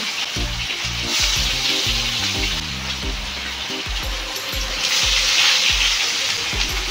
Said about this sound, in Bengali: একে একে লবণ হলুদ লঙ্কার গুঁড়ো মাখিয়ে রাখা মাছগুলোকে দিয়ে দিচ্ছি। একেবারে সমস্ত মাছ ভাজবো না, দুবারে মাছগুলোকে ভেজে নেব।